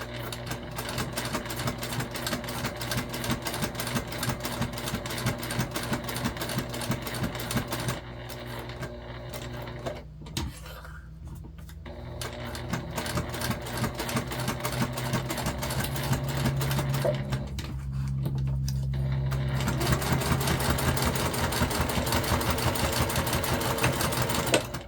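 A sewing machine stitches a modified Lindsport Mini Backpack in rapid, close, mechanical runs, pausing briefly twice before resuming at a steady pace.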